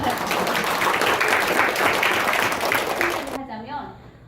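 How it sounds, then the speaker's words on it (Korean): An audience at a school admissions event applauds in a steady wash of clapping that ends abruptly, followed by a speaker talking. "박수 한번 주세요."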